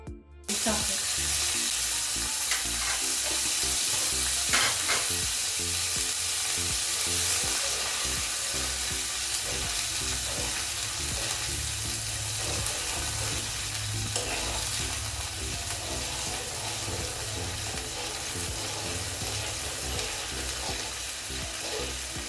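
A loud, steady sizzle of water hitting a hot pan of sesame seeds and chillies runs throughout, with scraping and stirring sounds on top.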